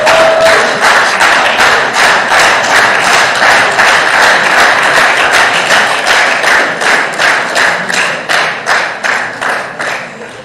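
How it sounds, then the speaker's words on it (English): Loud, sustained applause from a large audience welcoming a speaker at the closing session of the 18th Africa Scout Conference in 2022, with the clapping falling into a steady rhythmic beat that tapers slightly toward the end. "Let's give him a round of applause as he comes."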